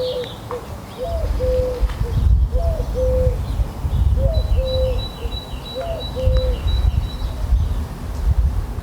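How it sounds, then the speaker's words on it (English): A collared dove coos in a garden in repeated three-note phrases, clearly audible over a low rumbling background, with another bird's thin call sounding partway through. "There's a collared dove behind me."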